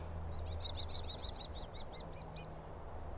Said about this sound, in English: The bird fluttered its feathers and launched itself off the branch.